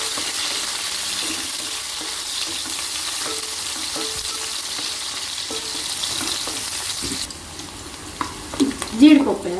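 Chopped onions and green chillies frying in hot oil for bagara rice, a loud continuous close sizzle with stirring scrapes, quieter near the end where a few utensil knocks come through.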